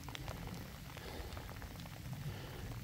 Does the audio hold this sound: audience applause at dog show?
no